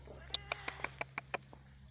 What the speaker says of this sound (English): Yeah, you're my cat.